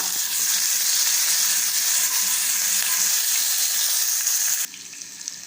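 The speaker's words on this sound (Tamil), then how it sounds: "கொஞ்சம் கருவேப்பிலை சேர்த்து கலந்து விட்டுக்கலாம்" Green chilies and curry leaves crackle in hot tempering oil for a ragi flour and rava tiffin, a loud steady close-up sizzle that drops off abruptly near the end to a faint hiss.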